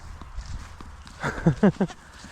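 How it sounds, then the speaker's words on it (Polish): Goats' hooves clatter in a quick burst of a few sharp knocks as they run past into a goat shed, close by, over faint background noise. "Kozy, słuchajcie, nienawidzą deszczu. I po pierwszych kropelkach już lecą pod koziarnię"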